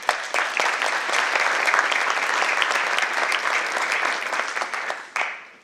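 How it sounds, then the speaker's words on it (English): Sustained audience applause at a waterfront restoration talk, dense and steady clapping throughout, easing briefly near the end before a short final burst. "So let's give him a round of applause."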